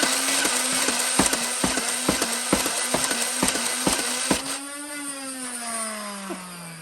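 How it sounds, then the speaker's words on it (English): An Adventure Force Ultra flywheel foam dart blaster hums with spinning flywheels while firing a rapid, regular string of darts, about a dozen quick thumps, then the motor whine drops in pitch and spins down after the shooting stops. "let's see what this Ultra stock flywheel blaster can do"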